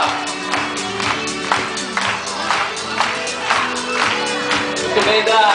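Rhythmic group clapping keeps time with loud music at a Brazilian PROERD anti-drug school event, the steady beats carrying through singing and crowd noise.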